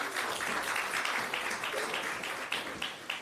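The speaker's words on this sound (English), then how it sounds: "another big round of applause for" Audience applause in a hall at the opening ceremony of a national health research conference, a steady moderate wash of clapping lasting a few seconds without talk.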